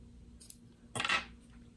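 Scissors snipping a fabric tail during sewing: one short, crisp cut close by, with a faint clink just before it, in a quiet room.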